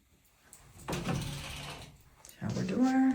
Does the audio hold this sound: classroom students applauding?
no